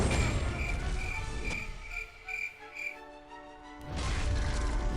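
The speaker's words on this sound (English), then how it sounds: "That's the crickets, man." Crickets chirp in a steady rhythmic pattern at moderate volume, set between bursts of louder background noise, with no voices.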